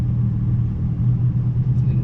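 A Porsche 991 engine rumbling steadily from inside the car on a drive, a deep continuous low drone holding even and loud throughout with no talking.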